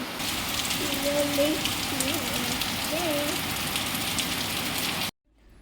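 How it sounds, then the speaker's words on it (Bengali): Heavy rain falls outside as a steady, dense hiss that lasts about five seconds and then cuts off abruptly, with faint voices underneath. "জোরে জোরে কথা বলছি কারণ বাইরে ভীষণ বৃষ্টি পড়ছে"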